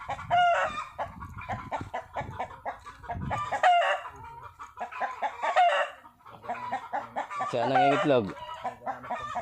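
Farm chickens cluck and cackle repeatedly nearby, with loud squawking bursts from a hen that has just laid an egg. A person speaks briefly between the calls.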